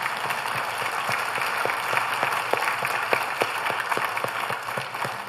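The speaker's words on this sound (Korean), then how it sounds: "우리 하나님께 영광의 박수 드립니다." A church congregation claps in sustained applause, a dense wash of many hands with steady, rhythmic beats, no talking over it.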